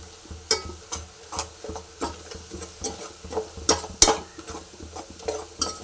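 Soft cooked tomato and chilli mashed in a cooking pan, heard as a steady run of close, rhythmic squelching presses and scrapes against the pan, roughly two per second, with a faint sizzle underneath.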